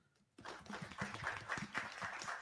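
After a quiet moment, an audience at an agri-food financing panel bursts into applause, a dense patter of clapping hands that holds steady at moderate loudness.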